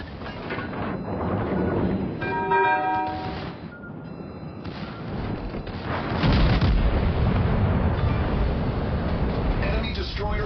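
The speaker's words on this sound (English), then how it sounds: "Torpedoes to port" Torpedoes and naval gunfire erupt in a Flotilla video game battle, with heavy rumbling booms and blasts rolling through the scene while voices talk over the action.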